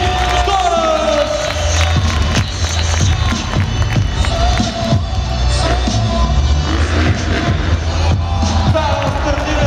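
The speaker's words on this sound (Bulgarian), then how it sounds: "Аплодисменти за Франса, той ни заслужава!" A crowd at a BMX qualifying run in Sofia applauds and cheers for rider Dany Torres, with loud, continuous cheering and whoops under an excited announcer's voice.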